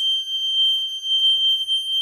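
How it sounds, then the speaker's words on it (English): A fire alarm set off by subwoofer bass blares a single steady piercing tone, loud and close, with only faint room noise beneath it. "that freaking alarm went off because of my speakers"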